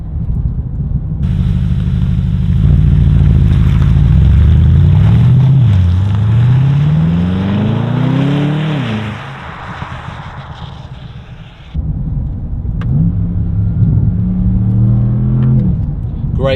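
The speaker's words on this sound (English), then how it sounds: "You can hear loads and loads of pops and bangs, maybe a little too many pops and bangs" A Bentley Continental GT V8 S in sport mode revs hard, its exhaust rising and falling in loud sweeping surges, then drops off and returns with lower burbling and scattered crackles and pops.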